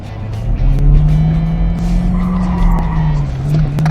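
Race car at a performance driving school track, engine droning loud and close while the tires squeal and skid through a corner, with a few sharp clicks over the steady tone.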